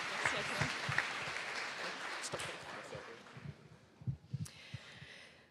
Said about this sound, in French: Une bonne main d'applaudissements, s'il vous plaît, pour voir Antoine